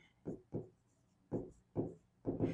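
A lecturer writes on a board, making five or six short scratchy strokes in an uneven rhythm, close and clear against a quiet room with no talking.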